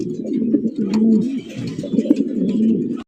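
A male racer pigeon coos close by in a repeated, low, rolling rhythm of throaty calls lasting about three seconds.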